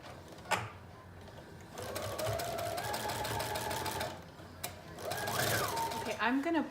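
A sewing machine runs in steady bursts, stitching along the self-facing edges of a mermaid prom dress, with short pauses between runs and a few clicks, a quiet, close hum.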